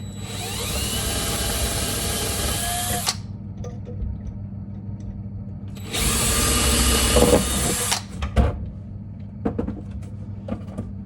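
A power drill bores holes into the wooden frame of a bathroom vanity, running in two loud bursts of steady whirring separated by a quieter pause, with light clatter of handling afterward.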